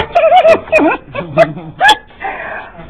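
An English Springer Spaniel or Field Spaniel gives a quick series of yelping, whining barks up close, high-pitched and uneven, with short pauses between them.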